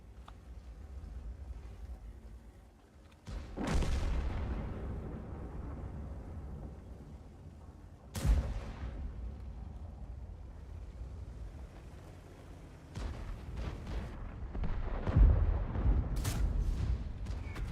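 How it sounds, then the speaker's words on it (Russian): Artillery shells from World of Tanks land in a few deep, booming blasts, each with a sharp onset and a rumbling tail, spaced several seconds apart over a low background. "Да, арта по мне так стреляет."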